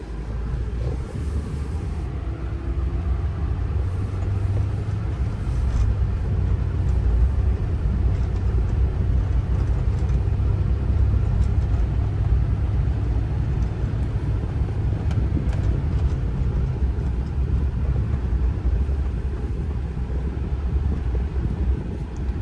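A 2012 GMC Sierra 2500 SLT Z71 4x4 with a 6.6 L LML Duramax diesel and Allison transmission drives along, giving a steady, continuous low engine and road rumble from inside the cab for the whole stretch, with no talking.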